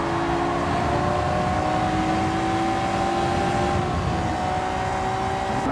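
A Honda NSX in Gran Turismo 7, on a time trial at Tsukuba Circuit, holds a steady engine drone with a sustained tonal whine as it coasts and pushes toward the finish line, loud and continuous with no speech.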